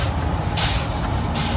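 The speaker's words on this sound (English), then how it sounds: "Now we're gonna do the cut-in test. Pretty much just hit the brakes" Truck air brakes applied during an air system cut-in test, sharp hissing bursts of released air, two loud blasts close by over a low idling rumble.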